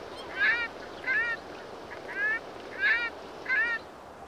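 Geese honk in five short, loud bursts spaced about half a second apart in the Volga delta in autumn, over a faint wash of background ambience.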